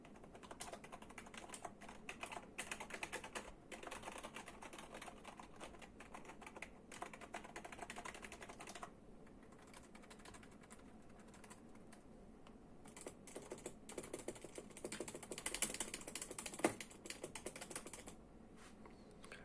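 Rapid, continuous clicking of keys on a GamePro GK109 computer keyboard, close and fairly quiet, with a brief lull midway before the typing picks up again.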